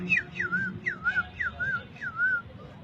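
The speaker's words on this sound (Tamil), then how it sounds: "அந்த குயில்களின் குரல்." Repeated whistled bird calls from tree branches after rain, sliding downward then rising again, about five calls in slow, regular succession, clear and fairly close over a faint background.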